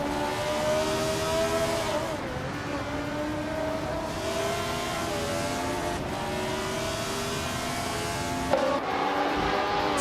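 A 1971 Brabham BT34 race car roars in a racing video game, its engine holding a loud, steady high-revving whine that drops with a gear change roughly every two seconds.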